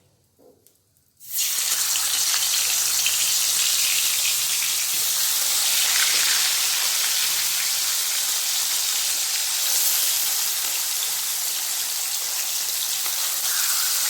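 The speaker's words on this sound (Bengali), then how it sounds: "মাছগুলো ভাজা হয়ে গেছে, তখন আমি সর্ষে পোস্তটা বেটে নিই।" Bata fish frying in hot oil: after a quiet start, a loud, dense, crackling sizzle bursts in and holds steady and close for the rest of the stretch.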